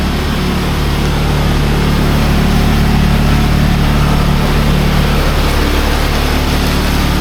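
A pressure washer runs steadily through the final rinse of a small building on a cold day, a loud, constant motor drone with a broad hiss of spraying water and no pauses.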